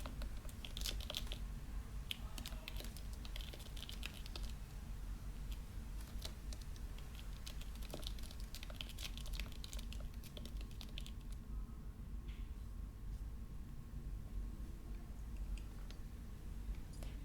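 Quiet, rapid tapping of fingers typing on an iPad fitted with a Touchfire silicone overlay keyboard, a soft, irregular stream of clicks without talk.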